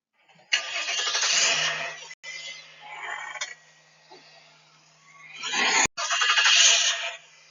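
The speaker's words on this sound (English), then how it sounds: "Push the button and start the car." A car engine starting at the push of a button: a couple of short cranking bursts, a pause, then the engine catches and roars up, close and fairly loud, with no talk.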